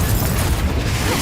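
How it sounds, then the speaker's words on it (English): Confringo fire spell explosion in the video game Hogwarts Legacy, a loud, dense low boom filling the whole moment with steady rumbling energy and no clear separate hits. "Confringo! I'll bet that one hurt."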